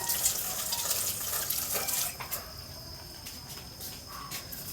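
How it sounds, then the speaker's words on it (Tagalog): Eggplant rinsed under a running tap, a steady splashing water stream filling the first two seconds, then quieter trickling and faint intermittent drips, with no one talking. "Hugasan ko muna yung talong."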